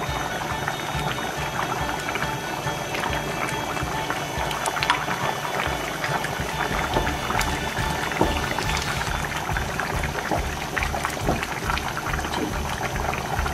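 A pot of rice and lentils for khichuri bubbles at a steady, vigorous boil, giving continuous close gurgling and popping with a faint background hum, no talk.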